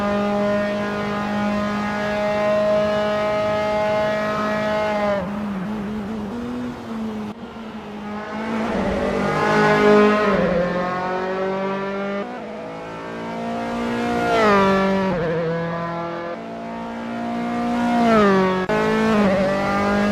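A Dallara F312 race car at Rattlesnake Point in Assetto Corsa, its engine revving steadily and rising and falling in pitch through gear changes and corners, loud and close throughout with no voices.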